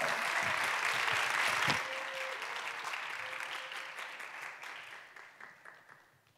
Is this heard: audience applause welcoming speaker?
yes